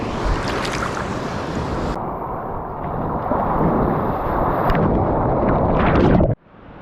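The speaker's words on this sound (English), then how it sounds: "There's a few waves." Ocean surf at Byfield National Park rumbles and crashes continuously nearby, loud and wind-buffeted, before cutting off abruptly near the end.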